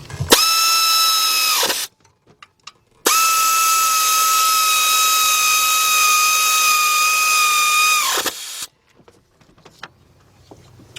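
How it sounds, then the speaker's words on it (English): An air ratchet with a 15mm deep socket tightens bolts during an AC compressor replacement on a GM truck or SUV, two loud, high-pitched whirring bursts, one short and one about five seconds long, separated by a pause. "my air ratchet. Tighten them right up."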